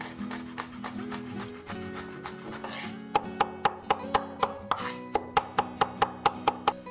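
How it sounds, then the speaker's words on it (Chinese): Red chili peppers chopped with a knife on a cutting board in a home kitchen: a quick, even run of sharp, close chops, growing louder and crisper toward the end, with no voices. "红尖椒也切碎装碗里"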